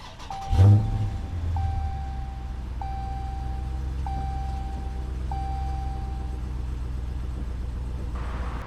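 A 2018 Dodge Challenger R/T Scat Pack starts with a push button: a sharp crank and loud bark, then a deep, steady rumbling idle close by, with a warning chime pinging at intervals.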